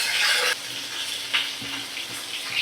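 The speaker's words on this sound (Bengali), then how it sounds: "এবার ভালো করে আমি বেগুন আর আলু ভাজা করে নেব।" Potatoes, eggplant and sliced onion frying in a pan for a fish recipe: a loud, broad sizzle at first that drops to a softer hiss, with a few light stirring taps, close and without talk.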